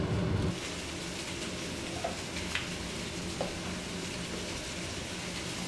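Food frying together in one pan, a soft steady sizzle with faint scrapes and taps as it is stirred, fairly quiet and without talking.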